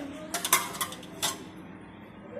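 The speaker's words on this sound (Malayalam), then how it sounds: "നമുക്കിനി ഒരു ചെറിയൊരു പാത്രം എടുക്കാം" A small metal vessel is picked up in a home kitchen while a ragi dish is being made, giving a few bright metallic clinks and clatters close by, then quiet.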